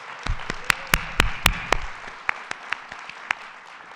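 Audience applause for the governor at a mental health announcement, a burst of sharp claps that thins out over a few seconds into scattered single claps, with no talking.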